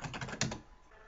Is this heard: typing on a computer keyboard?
yes